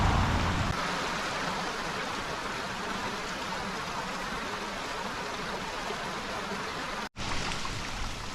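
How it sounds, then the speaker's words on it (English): Cascade of river water tumbling over rocks beside the Appalachian Trail in Pennsylvania, a loud, steady rushing roar close by that runs unbroken, with only a momentary dropout near the end. "this cascade's running pretty well"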